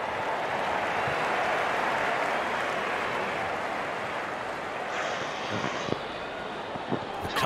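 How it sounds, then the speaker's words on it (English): Cricket crowd cheering at a match after a boundary, a loud, steady roar of many voices and applause filling the whole clip, easing slightly toward the end. "The crowd is enjoying every bit of this action."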